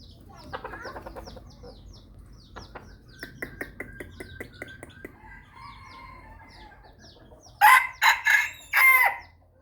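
A rooster crows several loud times close by, sharp drawn-out calls near the end, after a run of softer clucks and chirps from nearby fowl.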